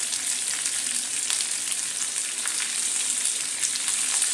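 Curry leaves sizzle loudly in hot oil for a tomato curry leaf kebab, a dense continuous crackle held close throughout with no voices.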